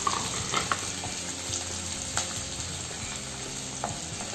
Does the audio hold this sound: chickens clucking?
no